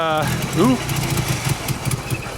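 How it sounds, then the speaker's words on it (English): A Mazda RX-7 Turbo II (FC3S) rotary engine idles with a steady, uneven putter, close by, while someone briefly speaks over it at the start. "Boys, we have an idling rotary."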